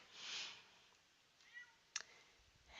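A house cat yowls insistently for her food, a bright, drawn-out cry up close at the start, followed by a few fainter calls and a sharp click, all without speech.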